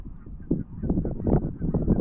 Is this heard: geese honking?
yes